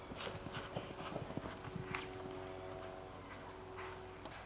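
Horse hooves pound the turf at a BSJA amateur show jumping class, a quick rhythmic clip-clop of galloping strides that fades after a couple of seconds into faint ambient noise with no speech.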